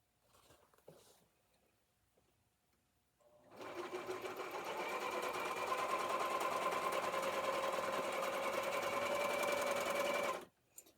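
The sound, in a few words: sewing machine sewing apron pieces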